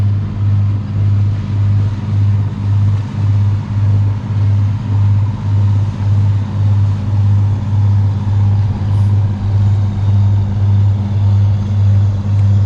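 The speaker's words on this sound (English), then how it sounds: "It's a little tiny tugboat that is a pusher, pushes the barge." Small pusher tugboat driving a commercial barge off Mount Desert Island, Maine: a loud, steady low diesel drone with a regular throbbing pulse, continuous and close, with no talking.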